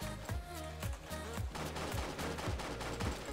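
Repeated pistol shots in the Roblox game Jailbreak, sharp loud cracks firing in quick irregular bursts over continuous game background sound and music.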